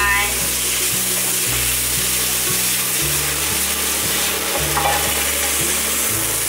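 Turmeric and tofu skin stir-fried in a wok give off a steady close sizzle with spatula scrapes, while a low tonal hum runs underneath throughout.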